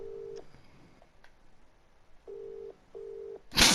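Telephone ringback tone on a call to a number that goes unanswered: three steady buzzing pulses in a regular pattern, clear and close, ending in a sudden loud burst of noise.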